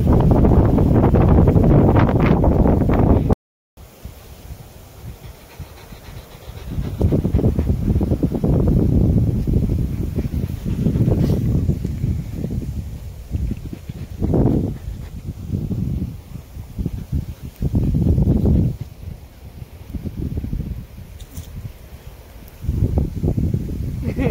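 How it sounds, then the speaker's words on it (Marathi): Strong wind gusting across an open farm field, roaring loudly into the microphone in long buffeting surges, with a brief drop before it returns in repeated heavy bursts. "लय हवा सुटली आमच्याकडे तर"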